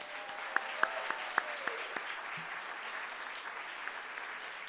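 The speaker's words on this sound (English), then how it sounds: "Give them a round of applause." Audience at a community forum on the Latino impact in Ohio applauding the speakers, a moderate steady round of clapping heard from across a hall with a few sharp claps standing out early on.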